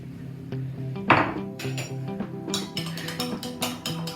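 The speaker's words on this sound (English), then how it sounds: "So you mix the egg with a spoon, and then you put the egg into the mixture." A spoon whisks egg in a bowl with quick, close, clinking and tapping strokes that grow faster and more regular toward the end, with no voices.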